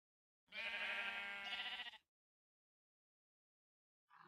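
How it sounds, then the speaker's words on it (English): Sheep bleating in the video game Minecraft on grassy plains: a single loud, drawn-out bleat of about a second and a half, followed by silence, then the start of another sound at the very end. "I've got a bunch of sheep."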